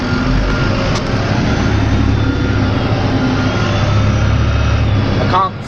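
An excavator's diesel engine drones steadily while digging a one-acre pond, a low rumbling hum heard from a bouncing, dusty position, with a rattle at the end.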